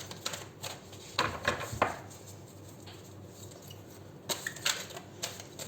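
A stiff tarot deck being shuffled by hand in a quiet room, producing a few short bursts of riffling and flicking cards separated by pauses, close and moderately loud.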